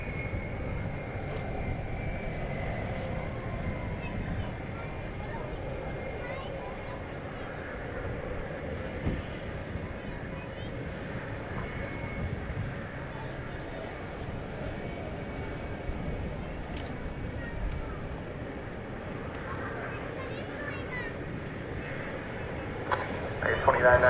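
A Boeing 737-800 departs at DFW Airport at night, its jet engines making a steady, distant broadband roar that swells slightly over about twenty-four seconds, with faint background radio chatter.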